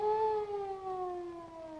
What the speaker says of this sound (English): That sounds like a police car to me.